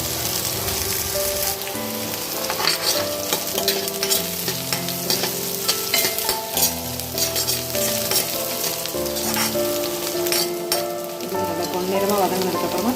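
Onions sauté in a pan with salt while being stirred for a yam fry masala, a continuous close sizzle broken by scraping stirs, with music playing throughout.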